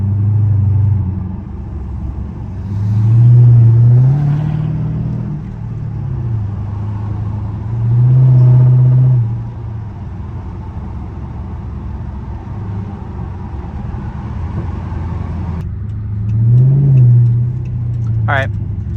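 A car engine rises in pitch several times as it accelerates, with a low rumble running throughout and a brief high whine near the end.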